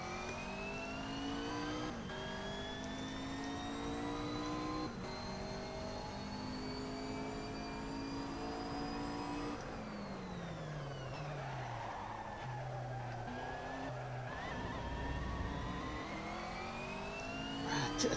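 Racing car in the Assetto Corsa sim driven on warm tyres, its engine droning steadily at high revs with rising pitch sweeps through gear changes, then braking and downshifts midway before accelerating hard again, loud and continuous with no talk.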